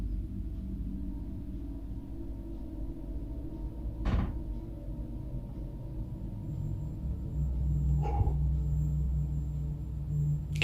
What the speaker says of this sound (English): Sounds like someone's trying to open this door.